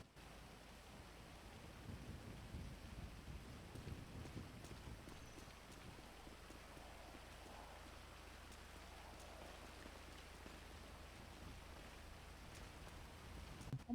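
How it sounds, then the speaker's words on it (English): Steady rain and rumbling thunder in the GTA V NoPixel game world, a continuous wash of rainfall with deep low rolls of thunder running underneath throughout, no voices. "Oh my god, it's raining."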